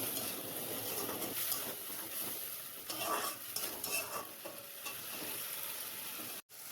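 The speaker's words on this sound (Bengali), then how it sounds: "এবার মশলার পেস্টটা দিয়ে ভালো করে কষিয়ে নেব।" Masala paste for egg curry frying in a pan, a steady soft sizzle with occasional stirring scrapes and light utensil clinks, fairly quiet and continuous with no talk.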